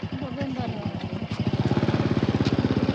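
A motorbike engine idles and revs close by at a rural village morning event, its rapid pulsing putter rising and steadying, with people talking over it.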